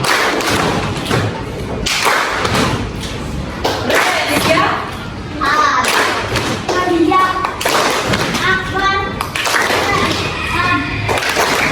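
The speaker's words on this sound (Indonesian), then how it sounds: "Tepuk konsentrasi." Children in a classroom doing a rhythmic concentration clap, sharp patterned claps and thuds mixed with young voices chanting and speaking.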